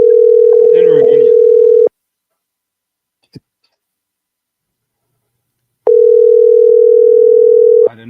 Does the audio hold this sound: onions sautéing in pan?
no